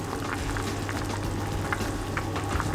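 A pot of curry with butter and vegetables bubbling and simmering steadily near the brim, a dense crackling wash of small bursts, close and continuous with no voices.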